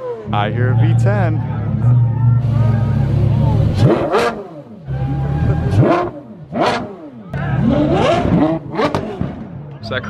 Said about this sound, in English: So that Carrera GT sounds so good